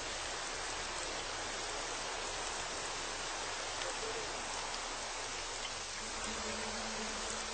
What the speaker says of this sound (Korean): 하늘이 어둑해지나 싶더니 어느새 비가 쏟아진다.